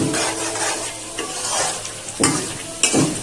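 Spiced chicken masala being stirred and fried in a pan, a steady close sizzle with scraping strokes of the spoon and two sharper clanks near the end.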